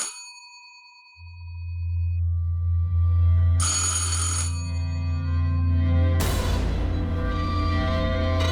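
A telephone rings with a steady electronic tone over a low hum, bursts of brighter ringing stacking on top as it repeats.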